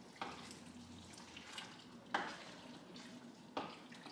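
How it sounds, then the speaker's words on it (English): Cheese being stirred and folded into rigatoni sauce in a pan, quiet soft scrapes at a slow, regular pace with a faint simmer underneath. "So stir that in there, fold it in there nicely."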